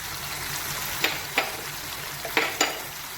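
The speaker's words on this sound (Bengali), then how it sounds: "আমি এরপরে যে হলুদ, জিরে, ধনে, লঙ্কা গুঁড়োটার একটা পেস্ট বানিয়ে রেখেছিলাম, গুঁড়ো মশলাগুলো, সেটা দিয়ে দিচ্ছি।" A paste of turmeric, cumin, coriander and chilli powder fries in a pan for mutton liver kosha, with a steady low sizzle and a few spaced clicks of a spoon stirring against the pan.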